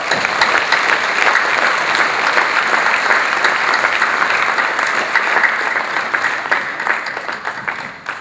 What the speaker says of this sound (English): Please give them a thunderous applause.